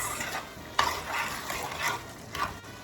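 A spoon stirs pigeon peas, smoked bacon and garlic powder in a pot, with repeated scraping strokes over a steady low sizzle, moderately close and with no voices.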